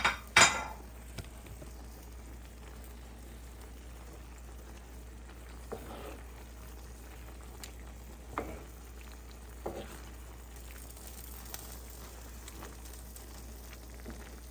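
Beef for Peruvian lomo saltado stir-frying in a pan, a quiet continuous sizzle broken by a sharp clatter at the start and several softer scrapes and clinks of stirring utensils.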